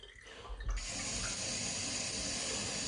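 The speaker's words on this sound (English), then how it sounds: "So when you're filling up the coffee machine with the coffee container with water, I'm going to show you now." Tap water runs steadily into the metal base of a stovetop moka pot, a brief quiet moment and low thump giving way to a continuous, close, hissing splash with no talking.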